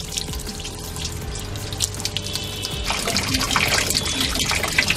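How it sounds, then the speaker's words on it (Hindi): Water pours and trickles steadily into the spin tub of a Videocon washing machine, a close, continuous running flow that grows slightly louder and fuller partway through, with no talking. "तो अब देखिए पानी स्पिन टब पे आने लगा।"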